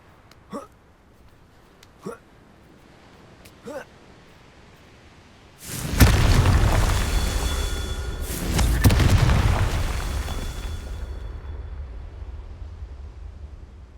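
A Confringo fire spell in Hogwarts Legacy bursts with a loud blast followed by a second rumbling explosion that slowly decays, preceded by a few short soft thumps.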